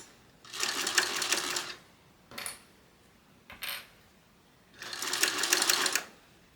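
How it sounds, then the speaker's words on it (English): A sewing machine stitching a fabric wristlet strap: two longer bursts of rapid, even mechanical whirring, separated by a pause with two brief clicks, close and clear with no talking. "go ahead and sew the side that has the open seams"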